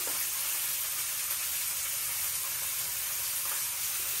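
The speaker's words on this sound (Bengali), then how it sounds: "আর এখানে মাছটা ভেজে নিতেছি" Fish fries in hot oil in a home kitchen, a steady close sizzle and hiss that stays even for the whole stretch with no voices.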